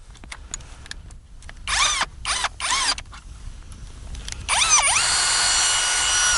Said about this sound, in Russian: Ну, потому что мощный шуруповерт, оборотистый, на второй бы ему сложно, а на первый вот работает.